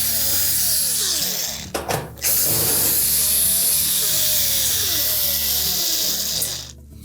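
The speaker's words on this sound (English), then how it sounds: "we just need to remove the screws that secure this upper panel in place" A power tool drives out quarter-inch hex head screws from the upper panel of a GE range, whirring steadily with a short break partway through before running on and stopping near the end.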